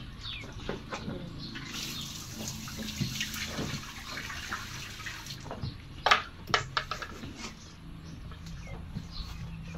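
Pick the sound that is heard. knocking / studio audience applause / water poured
water poured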